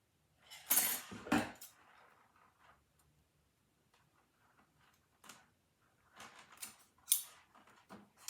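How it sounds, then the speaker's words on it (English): Scissors snipping flexible plastic fabric boning strips for a dress, heard as a couple of sharp close cuts at the start and more scattered clicks and snips later, separated by near silence, with no talk. "go ahead and cut 6 inches of boning"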